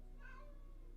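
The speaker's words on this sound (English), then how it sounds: "My cat is yelling at me." A hungry pet cat meows loudly once, a drawn-out, rising-then-falling cry close to the listener, with no talk over it.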